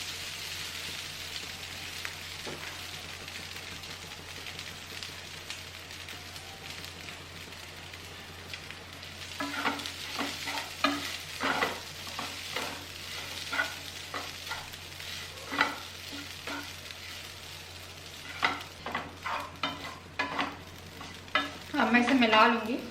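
Idli pieces are stirred into fried onions in a pan for upma, a low sizzle at first, then repeated scraping and tapping strokes of the spoon growing busier toward the end.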